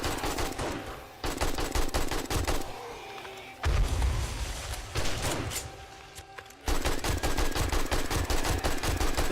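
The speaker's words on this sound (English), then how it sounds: "Yeah, I'm using good use of my bullets. See, I'm shooting through them." Rapid gunfire in the survival game 7 Days to Die, dense automatic bursts rattling loudly and continuously, broken by a couple of brief pauses before resuming at full intensity.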